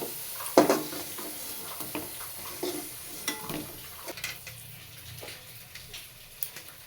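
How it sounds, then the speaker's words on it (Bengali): Potatoes fried in oil until well browned, then lifted out of the pan: a soft sizzle runs under scattered scrapes and clinks of a utensil against the pan, with no voices. "আলুগুলো ভালো করে লাল করে ভাজা হয়ে গেছে। এবার আলুগুলো"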